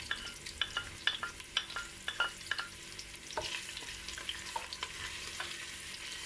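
Onion and red chili sizzle in a pan under a steady frying hiss, with close, quiet clicks and scrapes of stirring scattered irregularly throughout.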